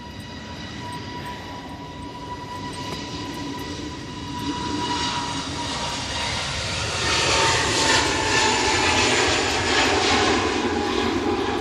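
A plane landing at Manchester Airport on a windy day, its jet engine roar building steadily and growing louder and broader toward the end, heard from a distance with no talking.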